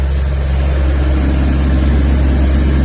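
Kubota GL-320 mini tractor running flat out at top speed in fourth gear, a steady, loud, low engine drone that holds constant throughout, close up and without voices.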